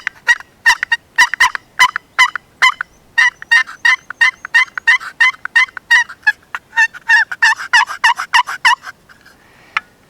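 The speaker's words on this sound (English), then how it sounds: "the sound carries a long way with a box call" Loud, rapid turkey yelps from a wooden box call, a steady run of raspy notes in quick succession, close and clear with no talking.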